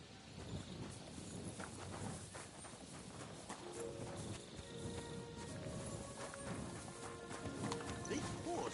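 Horse hooves clip-clop steadily across the full stretch in Kingdom Come: Deliverance II, mixed with game ambience and a voice talking over the top.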